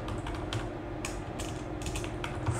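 Python code being typed on a computer keyboard: a quiet, irregular run of close key clicks with a few sharper taps over faint background hum.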